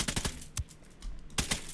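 Gunfire from a tactical shooter video game, heard as a few sharp bursts of shots at the start and again near the end, with a lull between.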